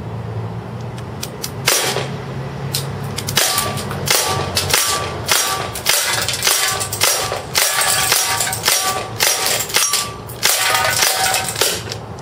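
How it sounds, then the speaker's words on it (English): Walther P99 CO2 BB pistol firing a rapid string of sharp, loud pops at a can about ten feet away, shot after shot in an uneven rhythm until the magazine runs dry, with no talking. "Let's go ahead and shoot the can."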